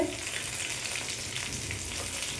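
Stuffed eggplant fries in a pan with a steady, close hiss and crackle of hot oil, no voices over it.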